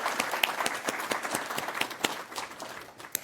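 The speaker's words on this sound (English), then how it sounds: "let's give another round of applause for the entire Reachability" Audience at the Nova Scotia Digital Inclusion Awards gives a round of applause for an association, a dense, even clapping from many hands that carries steadily from start to finish.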